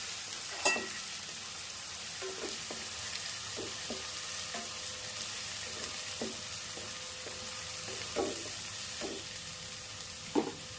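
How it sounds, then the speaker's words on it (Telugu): Onion paste sautéing in a pan for an onion-chili sorrel leaf curry, a low steady sizzle with repeated spoon stirs and scrapes at an uneven rhythm, close and moderately quiet, with no talking. "ఆనియన్ పేస్ట్ వేసుకొని పచ్చివాసన పోయే వరకు బాగా మగ్గించాలన్నమాట."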